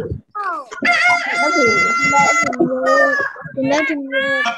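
A rooster crowing, a long drawn-out cock-a-doodle-doo with a couple of shorter calls after it, loud and close. It sounds like a human voice imitating the rooster, likely during a children's storytelling session.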